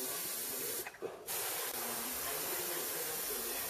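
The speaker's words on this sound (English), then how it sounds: "always keep your airbrush moving, especially the single action" A single-action airbrush spraying primer, giving a loud, steady close-up hiss that cuts out briefly near the start, then resumes and runs unbroken to the end.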